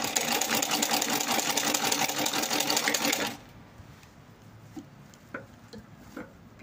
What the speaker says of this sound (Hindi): किनारे सिलते जाएं